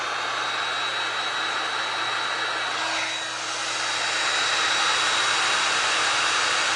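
A heat tool blows hot air over glass and resin holiday art, a steady airy roar with a thin high whine, dipping briefly midway as it is moved, then continuing evenly.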